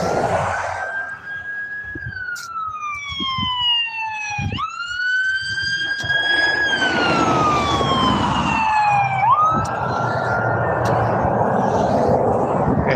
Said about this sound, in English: I got a siren coming, so I got to cover my ears.